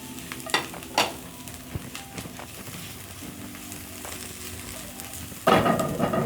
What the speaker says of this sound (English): I'm going to go back to my pan and I'm going to add a little bit of fresh dill. Stir.